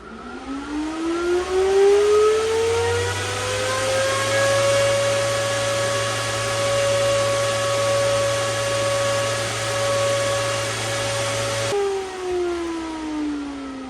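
An Osprey E300-VU7P FPGA miner powers on, its fans spinning up in a rising whine that levels into a steady drone with a low hum beneath, then cuts off abruptly near the end.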